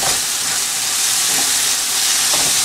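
Ground masala spices, including coriander powder, sizzle and hiss steadily in a hot kadai for vegetable curry, a close, continuous frying sound with faint stirring and no talk.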